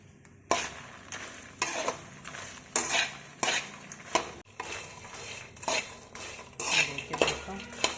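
Fox nuts (makhana) being stirred and roasted in ghee in a pan, with repeated scraping and clinking of a spoon against metal and a faint sizzle underneath, close and fairly quiet.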